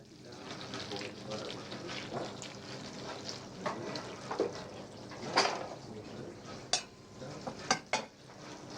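Skin-side-down piece sizzling in a hot pan in a professional kitchen, a steady crackling fry with a few sharper pops and clinks near the end, while people talk over it.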